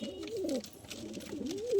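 Madrasi pigeons in a loft give a run of low, rolling coos that swell and fall in pitch almost continuously, close and fairly loud, with no talking.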